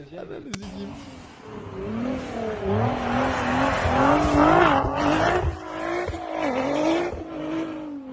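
A car engine hums and rises in pitch as it accelerates and shifts, revving up and down over several seconds, with voices talking over it.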